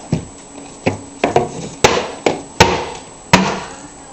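Hammer striking wood during home demolition, a series of about eight sharp, separate knocks at an uneven pace, close and fairly loud.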